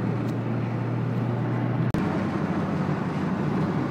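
A boosted RB30DET engine in a Nissan Z runs at a steady low drone, with constant broadband noise and one sharp, brief dropout near the middle.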